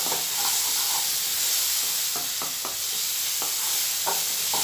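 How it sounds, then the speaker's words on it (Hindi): A spice masala with garam masala fries in oil for ragda chaat, a constant bright sizzle broken by several quick scraping stirs of a spoon against the pan, close and fairly loud. "ये देखिए मसाला फ्राई हो चुका है"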